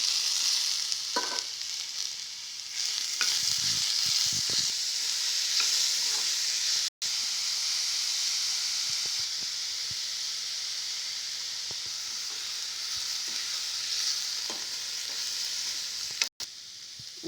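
Onions frying with ginger and garlic give a continuous close sizzle, with scraping stirs early on and a couple of brief sharp knocks of the utensil.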